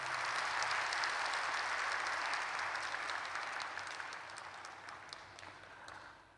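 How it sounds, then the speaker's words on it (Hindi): An audience at a spiritual talk breaks into a broad wash of applause that holds steady, then gradually fades over several seconds, sounding somewhat distant. "ताली तो बजाओ भाई।"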